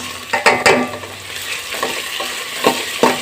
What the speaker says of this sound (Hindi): प्याज हमारे जैसे ही थोड़े से नरम हो जाए तो हाँ हम इसके साथ ही डाल देते हैं लहसुन अदरक का